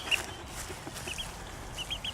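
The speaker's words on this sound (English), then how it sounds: "Be gentle with the chickens." Chickens clucking softly in a farmyard, several short high clucks scattered across a quiet background, fairly faint and close.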